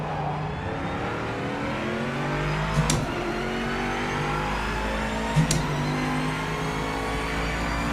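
A race car engine in the Project Motor Racing video game holds a steady high drone, with a couple of brief sharp clicks, likely quick upshifts, heard alone and at constant loudness.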